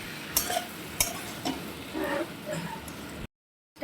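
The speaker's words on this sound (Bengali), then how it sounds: "চিংড়ি মাছটাও এর মধ্যে দিয়ে দেব এবার নাড়িয়ে চাড়িয়ে" Prawns are stirred into a pan with fried papaya and potato, with scattered scraping clinks of the spoon against the pan over a low sizzle, a few sharp knocks standing out before the sound cuts to silence.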